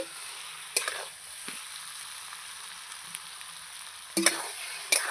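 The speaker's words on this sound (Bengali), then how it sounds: "এবার ভালো করে মশলাগুলো আমি নাড়িয়ে কষিয়ে নেব" Spices and fish stirred and fried in a pan, a faint low sizzle punctuated by a few sharp scraping clatters of the spoon against the pan, the loudest near the start and toward the end.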